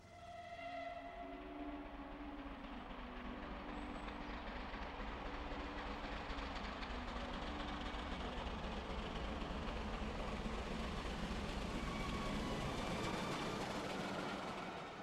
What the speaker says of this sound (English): here the locomotive toils uphill from Petersfield towards Burriton Tunnel.